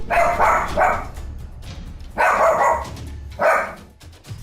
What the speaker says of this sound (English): This creepy doll has been freaking out this dog for days on end